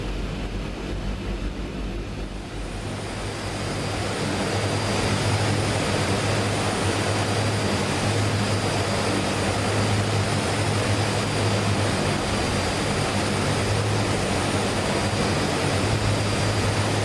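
A DHC-6 Twin Otter turboprop takes off in Microsoft Flight Simulator, its engines swelling after a couple of seconds into a loud, steady, broadband roar with a persistent droning hum that continues alone to the end.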